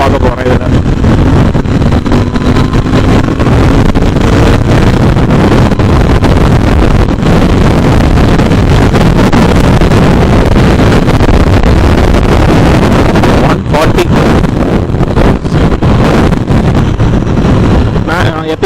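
A Royal Enfield Interceptor 650 BS6 motorcycle ridden flat out at top speed, its engine drone buried under loud, constant wind buffeting across the microphone for the whole ride, with a steady roaring rush.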